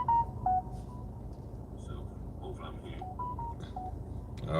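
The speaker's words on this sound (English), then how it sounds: "getting all these notifications." A phone chimes with a run of short notification beeps, several quick tones scattered over a steady room hum at moderate volume.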